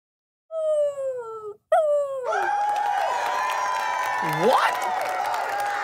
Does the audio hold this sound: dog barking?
yes